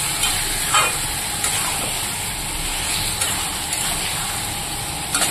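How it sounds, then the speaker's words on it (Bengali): Chicken and potatoes are stirred with spices in a pan, giving a steady sizzle with soft scraping strokes and a few louder clinks, close up and without talk. "তো মাংসটাকে ভালো করে নাড়াচাড়া করে আলুর সঙ্গে মশলাটা মিশিয়ে দিই"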